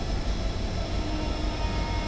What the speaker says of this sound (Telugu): ప్లాట్ఫామ్ నంబర్ 8లో ఏదో ట్రైన్ అయితే వెళ్తుంది